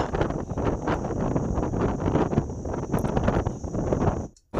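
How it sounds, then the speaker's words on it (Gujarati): Strong storm wind blows hard across the Suigam area, roaring steadily as it buffets the microphone with a continuous rushing gust for several seconds before cutting off abruptly. "અચાનક વાતાવરણમાં પલટો આવતા ભારે પવન ફૂંકાઈ ગયો"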